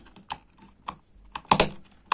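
A single light switch is pressed and clicked into its wall box. A few light plastic clicks and taps come through, with a denser cluster of snaps near the end and no one talking.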